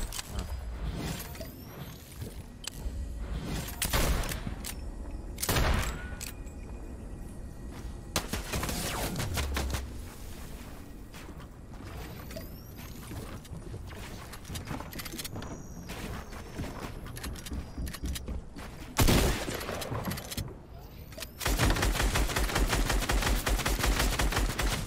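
A computer-controlled bot firing a gun in a shooting video game: repeated bursts of gunfire and rapid automatic shots, with occasional whooshes, mechanical clicks and footsteps in between.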